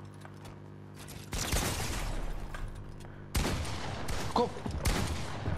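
Gunfire in a video game, bursts of rapid shots breaking in after a quiet start, dense and loud, with a short word spoken near the beginning.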